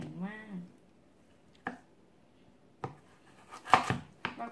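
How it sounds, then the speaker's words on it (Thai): A knife chops hard raw taro into long, thick pieces on a cutting board, giving a few sharp, distinct cuts spaced about a second apart. Quiet pauses fall between the cuts. "เราก็จะหั่นออกมาเป็นท่อนยาวๆนะคะให้ได้แบบนี้ให้หนานิดนึง"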